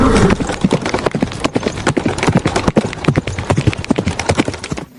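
Horse hooves clip-clop in a children's animal-cleaning cartoon: a quick, steady run of sharp, close, loud hoofbeats for about five seconds, with no talking.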